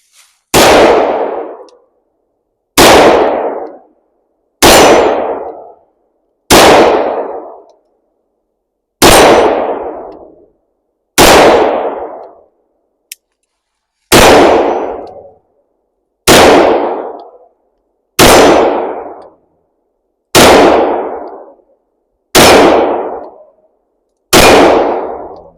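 A Taylor & Co .357 revolver fires at an outdoor range, about a dozen sharp, loud reports spaced a couple of seconds apart, each followed by a ringing decay, with rounds striking a steel target.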